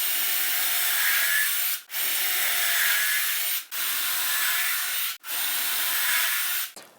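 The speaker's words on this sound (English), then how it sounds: "we're gonna drill 2 pilot holes in each board." Steady loud whirring of a drill with a 1/8 inch bit boring pilot holes into wood boards, repeated in four long bursts separated by brief pauses.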